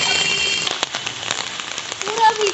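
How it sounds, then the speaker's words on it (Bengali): Heavy rain patters and splashes onto surfaces in a dense, uneven stream of drops. Faint tonal chirps and voices sit in the background. "পুরো ভিজে গেলাম, সেই বৃষ্টি হচ্ছে।"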